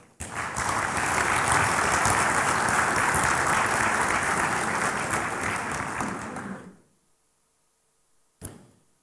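Delegates at a football confederation congress break into loud, sustained applause for about six seconds before it drops to near silence, followed by a single sharp thump.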